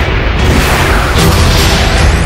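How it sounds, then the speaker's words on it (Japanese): Loud, sustained booming and crackling blasts fill the whole stretch, like a continuous fireworks barrage in a PlayStation game, dense and close with no pauses. "綺麗な花火が上がりますよ。"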